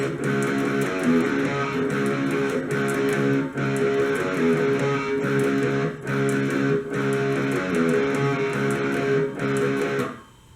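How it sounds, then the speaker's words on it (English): Guitar playing the intro riff of a song, a steady repeating picked pattern with regular accents, clear and moderately loud, with no voice, ending with a short fade. "pretty easy, and that's the whole intro"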